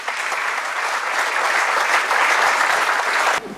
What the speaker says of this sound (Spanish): para todos los cuales les pido un aplauso y un agradecimiento